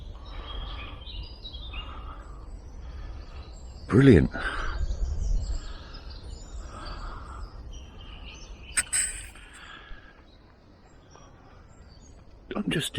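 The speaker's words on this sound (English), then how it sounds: "Nothing but silence and birds" Birds sing in spring woodland with bluebells near Bakewell: faint, scattered chirps and tweets over a quiet background, with a brief spoken word and a couple of short louder noises.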